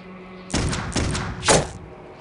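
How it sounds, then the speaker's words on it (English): Crossbow shots in the video game Clive Barker's Undying: three quick, loud, close bursts of whooshing thuds follow one another within about a second, with a faint steady hum behind them. "That sounds like 3 crossbows in one."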